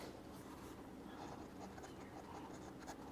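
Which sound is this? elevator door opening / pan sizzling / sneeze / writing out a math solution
writing out a math solution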